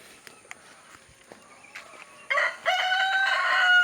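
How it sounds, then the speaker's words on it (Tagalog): A rooster crows loudly and close by, one long call after a stretch of quiet with a few soft taps and footfalls. "Oo, ang manok. Ang manok."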